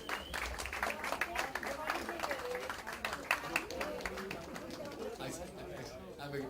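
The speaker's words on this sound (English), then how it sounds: "A big round of applause, please." Audience applause at a film press conference and success party, with a crowd clapping in uneven bursts amid chatter and a host's voice over the noise.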